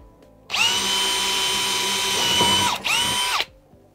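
Bosch GSR 18V-150C Biturbo brushless cordless drill boring into softwood in second gear at maximum torque, a loud high motor whine for about three seconds, a brief dip, then a short second burst before stopping.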